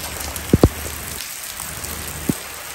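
Heavy rain pours steadily outside a house with a flower garden, a constant dense wash of drops with a few louder close taps and splashes, no voices.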